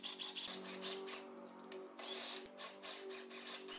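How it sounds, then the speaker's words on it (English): A power drill whirs in short repeated bursts, drilling out old rivets from the undertail fairing of a 2008 Triumph Speed Triple motorcycle, close up and fairly quiet, with no voices. "After drilling out the remaining scraps from the undertail"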